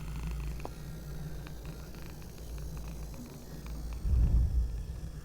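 A cat purs close by as a low, steady rumble under background noise, growing louder near the end, in an abandoned school building.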